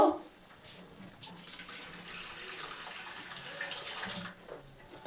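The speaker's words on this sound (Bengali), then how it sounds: "একটু জল দেব," Water is poured into a pan of fried potatoes for a cabbage kofta curry, a steady close splashing gush that runs for several seconds with no talk over it.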